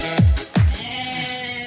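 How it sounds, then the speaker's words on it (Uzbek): Two loud, close bleats from fat-tailed sheep at a livestock market, one right after the other, followed by quieter background hum. "Kim qo'ylar, dumbali qo'ylarimiz bor, keylar mana, dumbali."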